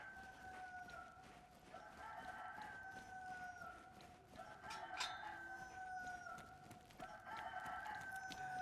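A chicken in a survival video game clucks and calls repeatedly in a rhythmic pattern, fairly faint but clear against a quiet background.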